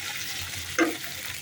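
Chopped capsicum is stirred with ketchup, chilli sauces and soy sauce in a frying pan, a soft continuous sizzle with one brief scrape of the spoon, quiet and close.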